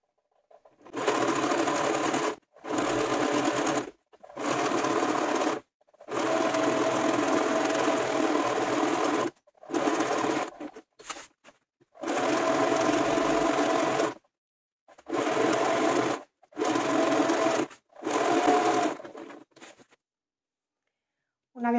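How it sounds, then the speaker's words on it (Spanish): A sewing machine stitches a seam around a jute beach bag in repeated loud bursts of rapid whirring, separated by short silent pauses as the fabric is turned. "pasamos todo alrededor una costura para sujetar esta pieza"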